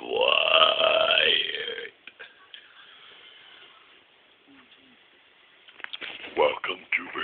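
A long, loud, croaking burp rolls out close up, then fades into quiet rustling before people start talking and laughing near the end.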